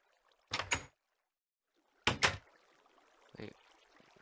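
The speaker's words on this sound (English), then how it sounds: "Is that an invisible door?" Wooden door opening in the video game Minecraft, two short clunky bursts close together followed by a fainter thud, with quiet game ambience between them.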